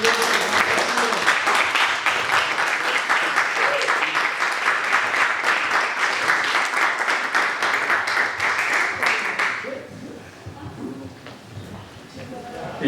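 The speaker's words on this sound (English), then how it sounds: "Round of applause for" Brisk, close audience applause at a film festival Q&A in New York, many hands clapping rapidly for about ten seconds before tapering off into room murmur, with a voice speaking briefly near the end.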